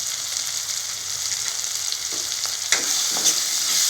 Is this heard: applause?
no